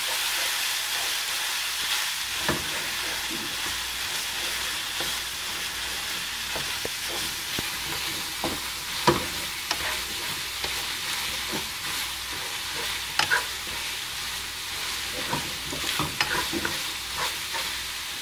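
Ground beef for shepherd's pie sizzles steadily in a hot pan, with a spoon or spatula scraping and stirring it in repeated, irregular strokes over the constant frying hiss.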